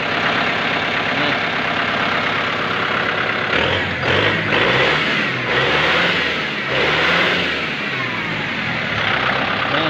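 A nearby 2023 Kubota M6040 tractor engine runs loud and steady, swelling into a few revs in the middle before dropping back to a constant drone.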